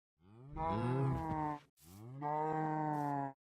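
Cows in a modded Minecraft game moo twice in a row, two long, even, synthetic lows with a short gap between them, clean and isolated with no talk.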